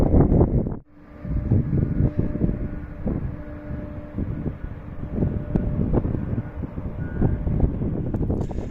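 Wind buffets a microphone on an open hill in the middle of nowhere, a steady rough rumble of gusts that swells and eases throughout.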